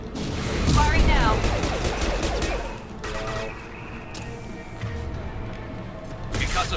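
Gunfire in the sci-fi shooter Mass Effect 2, a dense burst of shots and impacts in the first three seconds, then scattered quieter reports mixed with game noise and talk.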